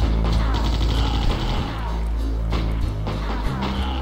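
Enemies shooting in the video game Wolfenstein Shadows of Destiny: dense, continuous gunfire and rapid shots over a loud, busy game soundscape.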